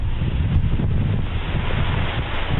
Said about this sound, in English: you start to hear the wind flying through pieces of metal and stuff